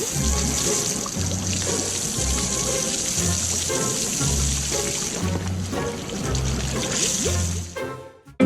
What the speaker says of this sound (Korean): 물이 분사되고 거품이 트럭 전체를 뒤덮습니다.